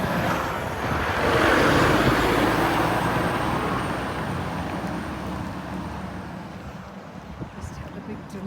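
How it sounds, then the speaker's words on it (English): Farm vehicles rumble past on a rural road near Kirton and Falkenham in Suffolk, a broad roar swelling close by early on, then easing into a steadier background drone with faint voices underneath. "Farm vehicles."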